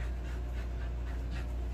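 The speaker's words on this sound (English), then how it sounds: "Good dog. Best dog ever." A dog pants steadily and close by in a soft, continuous rhythm, with low background hum and no talking.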